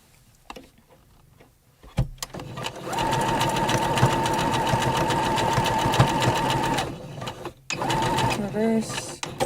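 A sewing machine stitches a cat hat. Its fast, steady mechanical whir runs close for several seconds, with short bursts at the start and a brief restart near the end. A voice is heard at times.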